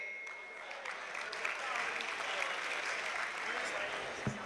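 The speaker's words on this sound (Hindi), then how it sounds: "भरपूर तालियों में इस्तकबाल कीजिएगा शहबाज नैयर" Sustained applause from a large audience welcoming poet Shahbaz Nayyar onto the stage at a mushaira in Lahore, steady and full throughout with a slight swell near the end.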